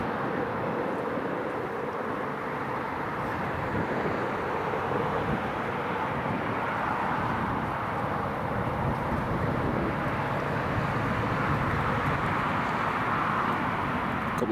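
Ryanair airliner out of Alicante moving at Newcastle Airport on a cold, very windy day, a steady broad jet roar blended with heavy wind buffeting across the microphone and holding at an even level throughout.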